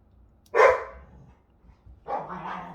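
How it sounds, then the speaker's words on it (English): Two dogs, a Lab German Shepherd mix and a Husky Boxer mix, give two separate loud barks indoors close by, with a quiet pause between them. "Sorry, those are my dogs."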